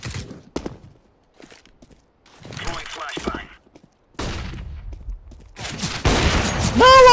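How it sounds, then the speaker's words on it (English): Gunfire in the CS:GO 2v2 Wingman match, several sharp shots and bursts spread across the clip among footstep-like thuds, with a loud final shot at the end; players' voices come in briefly. "What was that shot?"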